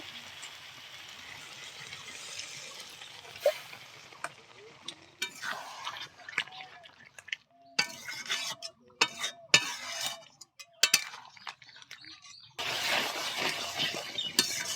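Dishes clink and water splashes as a bowl is rinsed and its water poured into a curry in a home kitchen, with scattered sharp clinks and splashy bursts, the last few seconds a steady pouring rush.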